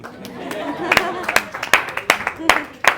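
Scattered, uneven hand claps from a church congregation ring out sharply over ongoing talk, a handful of separate claps rather than a full ovation.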